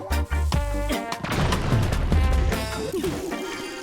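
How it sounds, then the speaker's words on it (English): A bomb blowing up in Zelda: Tears of the Kingdom, a loud crashing burst with a rumbling, crackling tail, set among bright game tones and effects, no talking. "we're going to have to lob another bomb here"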